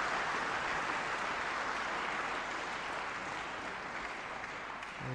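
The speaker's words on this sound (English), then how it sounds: "a very generous round of applause by the efforts of both players" A tennis crowd applauds after a long rally at a 2011 women's first-round match in Luxembourg, with steady, dense clapping that sustains throughout and fades slightly near the end.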